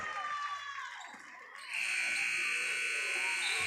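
A loud, sustained electronic buzzer sounds in a high school girls' basketball gym at the end of the first half, following crowd noise and commentary.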